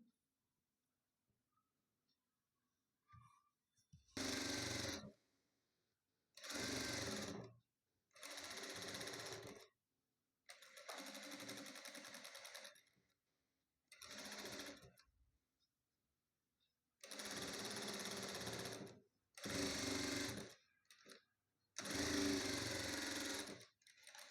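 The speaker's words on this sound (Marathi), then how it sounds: "आता इथं आपल्याला वरतून टिप मारून घ्यायची आहे" A sewing machine topstitches a blouse in a series of loud, close bursts of rapid stitching, each a second or two long, separated by short silent pauses.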